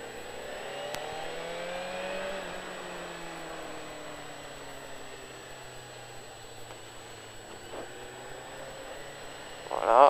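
A motorcycle engine accelerating on a track, its whining pitch rising and falling as it revs, heard at moderate distance with a constant background hiss.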